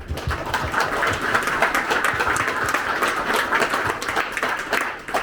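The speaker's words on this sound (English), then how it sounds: "I'd like to give everybody a round of applause." A round of applause from a gathered crowd at the Wheeling for a Cause event at Katemcy Rocks in Mason, Texas, with loud, close, dense clapping sustained throughout, individual hand claps standing out near the microphone.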